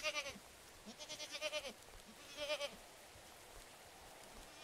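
Goats bleat in a remote village in the horror video game 1873, with quick wavering calls in short clusters of four or five, then a few scattered bleats over a low ambient background.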